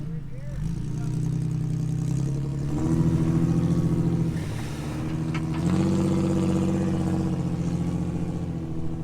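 A Duramax pickup truck engine on sand dunes revs up in two rising surges for a rolling start, a steady mid-low drone that swells, eases, then swells again, with a voice speaking over it.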